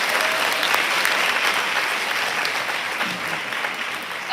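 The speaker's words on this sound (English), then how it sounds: "Give her one more round of applause, please." An audience gives a steady, dense round of applause after a live music performance, unbroken for several seconds with no talking.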